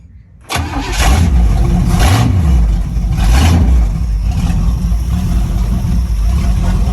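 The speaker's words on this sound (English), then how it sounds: "a couple pumps of the gas. 1, 2. Ignition on." A 1967 Pontiac Firebird 400 V8 cranks briefly, then catches and roars to life, revving hard in two or three loud swells before settling into a rough, throaty high idle, close by with no talking.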